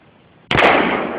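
A single loud, close 30-06 rifle shot at an outdoor range in winter, an abrupt blast after faint background noise, ringing out for a moment.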